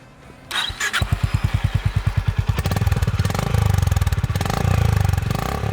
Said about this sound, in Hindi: दोनों बाइक्स में 350 सीसी का सिंगल सिलेंडर इंजन है और वो जानी पहचानी आवाज